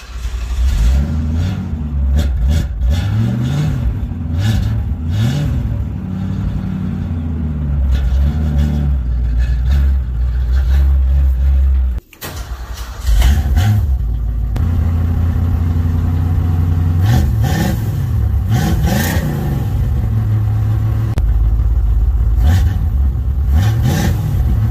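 A 1962 Ford Fairlane 500 with a 221 cubic inch V8 is revved up close and loud. Repeated throttle blips rise and fall over a rumbling idle, with a brief drop near the middle before the revving resumes.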